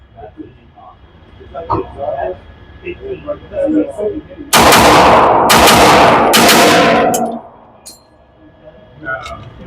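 A Girsan Witness 2311 Match X pistol fitted with a 9-pound spring fires the last rounds of a magazine at a range: a few loud, close, ringing shots in quick succession, with soft background noise before and after.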